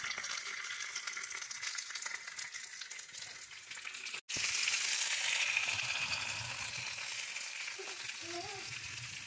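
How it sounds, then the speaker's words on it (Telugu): Tilapia fish fries in hot oil with a steady, dense sizzle that briefly cuts out and then returns stronger, while a voice speaks faintly underneath. "సో ఆల్మోస్ట్ డన్ అండి మన తెలేపియా ఫిష్ ఫ్రై అనేది."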